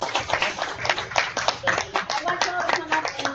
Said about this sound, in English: Let's give Diane a round of applause for preparing this program.